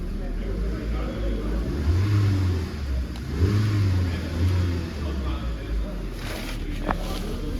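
Hyundai Aura Prime CNG sedan engine revving with no under-body covering or bonnet insulation, a few rising and falling revs heard close, with a steady rumble between them.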